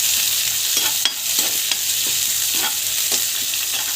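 Onions and chillies sizzle in hot oil with mustard seeds and cumin, a steady close frying hiss broken by repeated soft stirring scrapes of a spoon in the pan.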